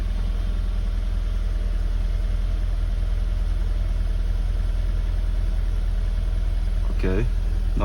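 A BMW Z4 E85 with an N46 engine idles steadily right after starting, a close, even low rumble that runs unbroken, with a brief clatter near the end.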